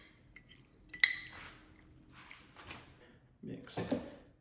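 A metal spoon breaks up and scrapes set aspic in a dish, giving a sharp clink followed by scattered scraping and a louder scrape near the end, while someone speaks.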